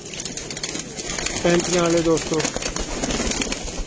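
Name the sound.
pigeons cooing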